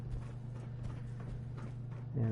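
Footsteps of a character walking in Fallout 4, a steady run of soft steps sitting under a constant low game hum, with a louder tonal sound cutting in at the end.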